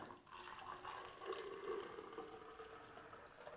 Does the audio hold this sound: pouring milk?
yes